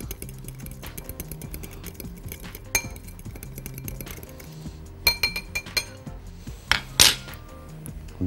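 A spoon clinks against a bowl while grilled eggplant is tossed with salt, black pepper and dried basil, with repeated close metallic taps and scrapes and a few louder clanks near the end.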